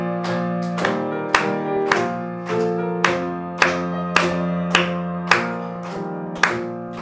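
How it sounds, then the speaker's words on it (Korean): At a Korean Sunday worship service, the congregation claps along to a hymn: sharp claps land on a steady beat about twice per second over sustained, tonal music. "박수 치면서 찬송하겠습니다"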